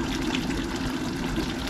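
Boiled water pours into a pot of Indian-style goat curry, a steady continuous gush of liquid filling the pot at close range, with no talk over it.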